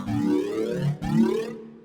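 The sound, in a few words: wavetable synthesizer patch playing basic mix waveform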